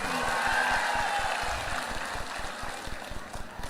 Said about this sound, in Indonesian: Tepuk tangan untuk Ustadz Yusuf Mansur.